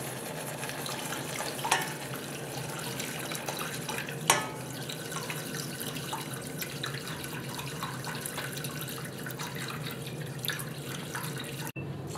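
Hot broth poured into a chicken and vegetable stew with flour and tomato, a steady close liquid pouring and splashing sound with a few louder splashes, no talking.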